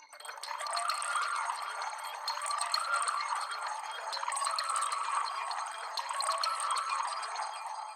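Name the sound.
keys layer with pitched-up grain delay texture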